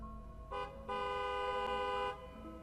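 A car horn honks in the evening: a short toot, a brief pause, then a longer sustained blast of just over a second, loud and clear against a quiet background.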